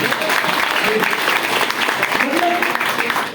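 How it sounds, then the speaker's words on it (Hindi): An audience at a DXN business gathering breaks into loud, sustained clapping close by, with a voice heard under the applause. "ओहो, ताली ताली ताली।"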